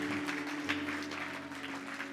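A church congregation claps in steady, dense applause under a humming background of music tones, moderately distant and continuous across the moment.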